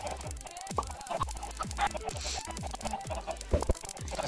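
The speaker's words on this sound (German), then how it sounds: "Wie viele Hühner sind hier bitte?" Minecraft chickens crowded together, clucking in quick, overlapping bursts alongside soft repeated popping and pattering sounds, close and busy.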